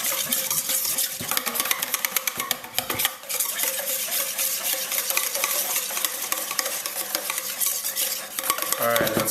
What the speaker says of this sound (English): like the raspberry preserves in this case, you really kind of want to go ahead and just whisk those out before you get it on the heat